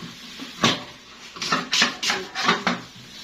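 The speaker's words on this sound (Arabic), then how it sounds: "يلا نغسل بقى الوعي كده" Dishes, pots and pans clatter during washing up on an old-style rooftop, with several separate knocks and scrapes in an uneven rhythm, moderately close and alone.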